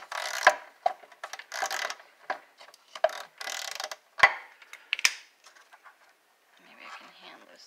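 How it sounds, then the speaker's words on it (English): A ratchet loosening a 10 mm bolt on the engine of a 2015 Chrysler 200 Limited during a spark plug change, heard as short bursts of close ratcheting clicks with pauses between strokes, and someone talking over part of it. "There is a 10 millimeter bolt right here you want to take off."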